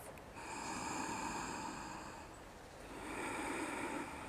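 Slow, audible breathing during yoga practice: a long airy breath, a brief pause, then another, soft and close with a slight rasp and no talk.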